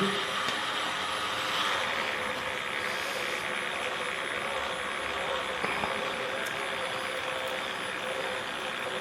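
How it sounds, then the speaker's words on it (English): An old winch motor working on a 1937 Plymouth convertible, a steady loud mechanical drone that holds evenly throughout with faint clicks and no talking. "That old winch motor works pretty good."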